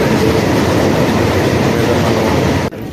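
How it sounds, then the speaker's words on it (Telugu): A nearly empty moving passenger train near Vijayawada rumbles loudly and steadily with a continuous rattling roar, cutting off abruptly near the end. "ట్రైన్ ప్రయాణిస్తుంది"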